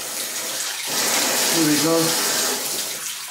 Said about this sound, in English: So when I turn on the water downstairs